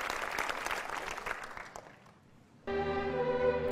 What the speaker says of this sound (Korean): 그의 동작 하나하나에 청중들이 힘찬 격려의 박수를 보낸다.